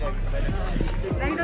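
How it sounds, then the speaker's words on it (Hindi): Strong, cold wind buffets the microphone on Mall Road in Shimla, a steady low rumble running through the whole clip beneath a voice. "बहुत तेज हवा चल रही है"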